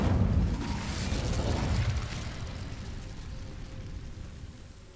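Incendio fire spell in Hogwarts Legacy catching dry vines: a loud whooshing burst of flame at the start that settles into a crackling, slowly fading burn, no voices.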